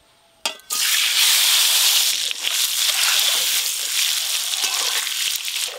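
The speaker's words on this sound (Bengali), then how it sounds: "এবার ডিমগুলো ভালো করে ভেজে নেব।" Boiled eggs hit hot oil seasoned with turmeric and Kashmiri red chili powder and burst into a loud, close, sustained sizzle that carries on unbroken after a sharp initial crackle.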